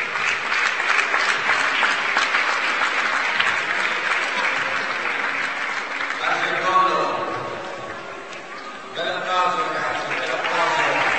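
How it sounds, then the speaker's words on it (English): A climbing competition audience at a lead and boulder finals event applauds the athletes, with broad sustained clapping from a sizeable crowd that dips briefly midway, while voices and a few shouts carry over the clapping. "Another great round of applause for these athletes who really gave us great emotions."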